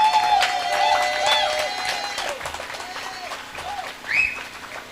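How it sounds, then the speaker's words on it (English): An outdoor crowd at a political pop-up meeting in Golden Acre, St. Stephen's Hill claps and cheers at moderate volume, with scattered whistles and shouts and a speaker's voice over the clapping. "Let us welcome with your loudest applause, Comrade Janine Butcher."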